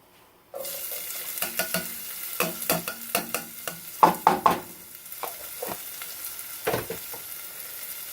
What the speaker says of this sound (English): And now I am to add my corn.